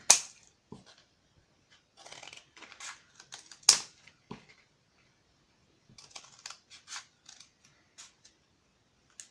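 Scissors snipping rings off a recycled cardboard paper tube, a series of sharp crisp cuts and clicks at irregular intervals with quiet pauses between, close and fairly soft.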